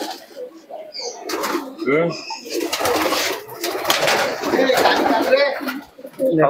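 Racing pigeons coo close by at a loft in Krishnanagar, throaty rolling calls with occasional wing flaps, mixed with people talking nearby.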